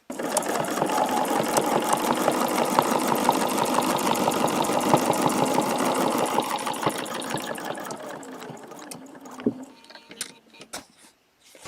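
A sewing machine stitches a quilted feather with a steady, fast mechanical whir that runs loudly and evenly for about eight seconds, then stops, leaving a few faint clicks.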